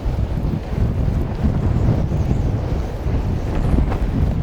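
Strong wind buffets the microphone during sea fishing off a coastal cliff, a loud, steady low roar with gusty rumble and no pauses.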